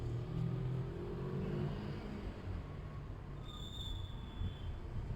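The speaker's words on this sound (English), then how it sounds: "that sounds exactly like a 2-cylinder should." Suzuki GS500 two-cylinder 500cc motorcycle engine idling after a carb clean and balance, a steady, rough low rumble held close throughout with no voices.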